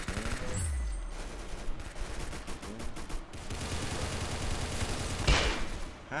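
Rapid bursts of heavy gunfire from a big gun in a video game, loud and close, with rattling volleys and a sharp blast near the end, no talk.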